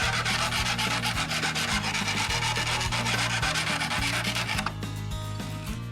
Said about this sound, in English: you can just take a file and file it down.